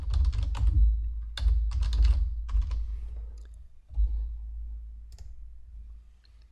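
Computer keyboard typed on to log in, quick bursts of clicking keystrokes close by, starting and pausing in short runs with a brief gap before a final few taps.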